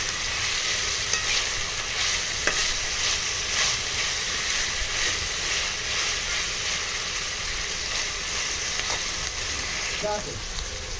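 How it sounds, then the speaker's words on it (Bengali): Vegetables and beans stir-fry in a home kitchen pan, giving a steady close sizzle with scraping and stirring clatter throughout. "বিন কড়াইটা দিয়ে এবার এটাকে আমি একটু সুন্দর করে নাড়াচাড়া করে নেব তো এটা সুন্দর করে আমি ভাজতে থাকবো"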